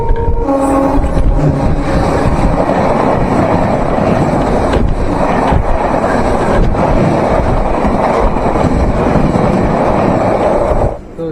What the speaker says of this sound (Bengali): তো চলো আবার ট্রেনে উঠি, ট্রেন ছেড়ে দিচ্ছে।